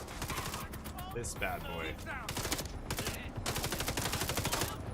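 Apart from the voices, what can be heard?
submachine gun firing in a video game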